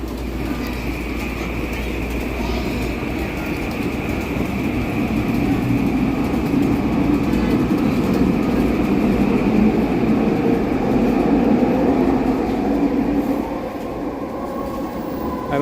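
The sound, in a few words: SkyTrain metro train ride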